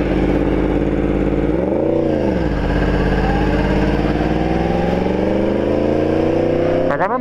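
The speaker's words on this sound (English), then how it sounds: "Bike starts up immediately" A 2018 Yamaha R1 sport bike fitted with a lightweight lithium battery fires up right away, then runs loud and close with a steady, throaty engine note and a brief rev dip and rise.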